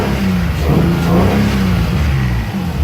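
A Nissan 300ZX engine, running cleanly after a coolant bypass and fixed fuel injectors, revs up smoothly with no misfire, a steady mid-pitched rise and hold close to the car, with no talking.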